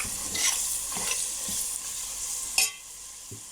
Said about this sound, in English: let this fry for a further 2 minutes